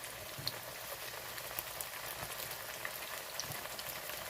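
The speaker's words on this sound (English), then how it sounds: "we're just going to brown them and sear them on each side" Oxtails sear in hot oil in a pan, a dense, even sizzle and crackle with small popping spits, close and continuous.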